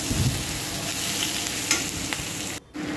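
Onions are stirred and fried in a pan for a Bengali fish-head moong dal, giving a dense, steady sizzle with stirring scrapes that cuts out briefly near the end.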